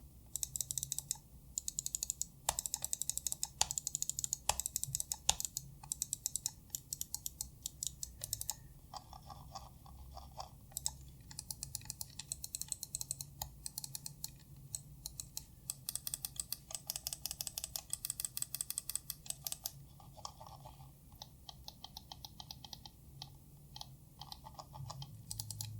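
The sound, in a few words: ASUS TUF Gaming M3 mouse buttons clicking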